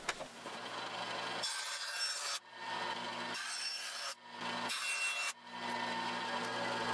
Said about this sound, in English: So I measure them against the thickness of the runners and slice off a strip from each side.